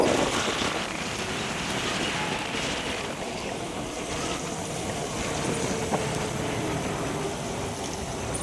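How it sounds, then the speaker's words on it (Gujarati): Rain falling steadily in Rajkot in a dense, continuous hiss that stays even throughout. "વરસાદ જાણે રહેવાનું નામ જ નથી લઈ રહ્યો."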